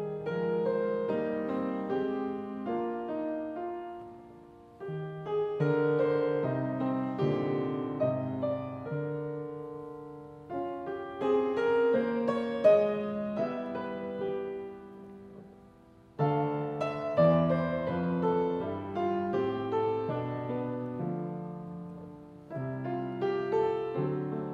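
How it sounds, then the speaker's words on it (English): Organ prelude by Ned Rorem playing a whimsical melody in a church setting, with sustained chords and moving lines in phrases of several seconds, steady and moderately loud, with no talking. "that prelude in the organ sounds a bit like this"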